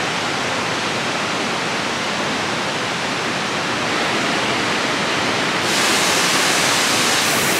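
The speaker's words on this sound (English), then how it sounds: "So many waterfalls." Continuous roaring rush of Iguazu Falls, broad and steady, growing slightly louder toward the end.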